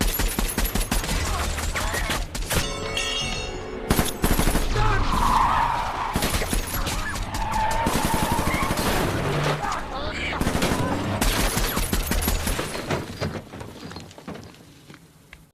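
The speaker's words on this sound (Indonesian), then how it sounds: "mereka langsung menembaki mobil tersebut" Gunfire rakes a car in an action film scene, with rapid bursts of shots, shattering glass and skidding tires in dense, loud clusters, broken by brief pauses and ending on fading impacts.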